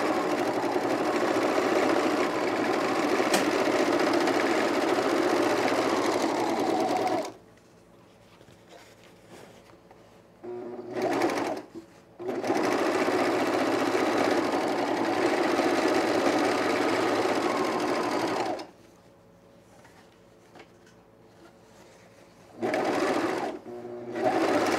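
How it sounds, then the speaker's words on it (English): An overlocker serges the top edge of cargo shorts pockets in loud, steady runs of rapid mechanical whirring, cutting out for short pauses and brief restarts between passes, close and alone with no talk. "I'm gonna overlock the top edge of my pockets."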